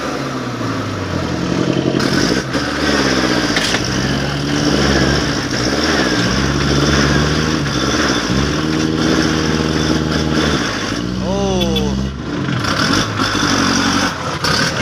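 An L50 tractor engine labors loudly under strain while being pushed uphill by a second tractor, its pitch rising and falling in repeated surges as it revs hard, close by and continuous.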